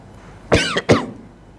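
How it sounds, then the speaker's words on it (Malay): Two sharp coughs in quick succession, close and fairly loud, during an evening religious lecture at a surau, followed by quiet room tone. "Tuan batuk ni"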